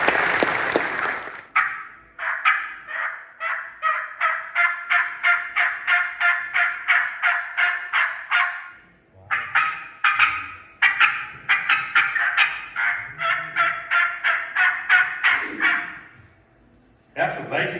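A man imitates a turkey hen's basic old yell on a turkey call, a run of rapid, loud, evenly spaced yelping notes in two long series separated by a short pause.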